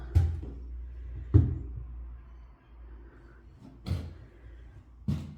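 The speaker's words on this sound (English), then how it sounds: "Back door." The back door of an old shop about to be demolished swings and bangs shut, giving four separate wooden thumps spaced a second or more apart against a quiet room.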